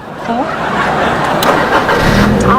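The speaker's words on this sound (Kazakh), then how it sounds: "Машина отолдайм?" A car engine starts and settles into a close, steady running rumble, with people's voices heard over it.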